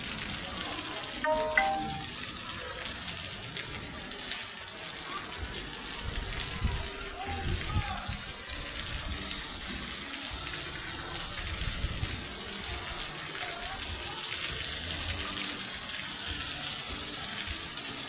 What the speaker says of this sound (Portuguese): a chuva em Cajazeira